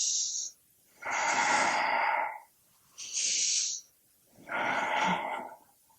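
Deep yoga breaths, in and out, come in four long airy bursts with short pauses between them, close and fairly soft, with no talk.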